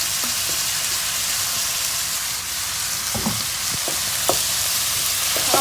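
Ground pork sizzles and fries in a pan while being sautéed, a steady hiss with occasional stirring clinks and scrapes, no voices.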